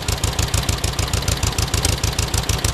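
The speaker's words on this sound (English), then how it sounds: "That fuel leak's fixed, and she's actually idling." Dune buggy engine idles close by with a steady, rhythmic chugging pulse, loud and slightly rough after a fuel leak was fixed.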